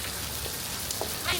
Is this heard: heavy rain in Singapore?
yes